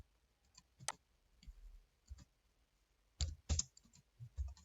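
Sparse computer keyboard typing and mouse clicks while building a game on Code.org, with scattered faint clicks and two louder clustered bursts near the end, close and without speech.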